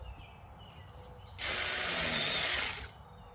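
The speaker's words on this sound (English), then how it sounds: "electric saws make short work of it." A small electric saw bites through tree roots in a loud hissing, buzzing burst of about a second and a half. The burst rises sharply out of quiet outdoor background and then cuts off.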